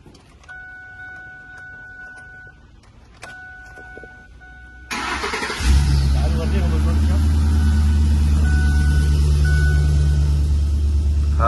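A Ford F-350 Super Duty pickup's engine cranks and fires after a few seconds of chiming, then settles into a loud, steady diesel-like idle rumble up close, with a voice speaking.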